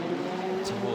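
Formula Renault Eurocup race cars working through first gear at Monaco's tight Loews hairpin on the Monte Carlo street circuit, a steady droning engine note with a brief higher burst, heard under continuous commentary.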